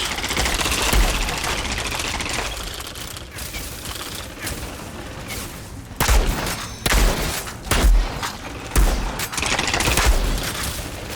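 Rapid gunfire from the video game Outriders, with repeated bursts of loud close shots between dips in level and a dense rumble of game effects underneath.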